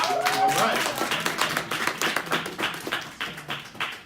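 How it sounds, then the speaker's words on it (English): Applause for a speaker at a tax and cash flow tutorial event, with scattered hand claps in an irregular rhythm mixed with cheering voices and talk. "Give them a round of applause, y'all"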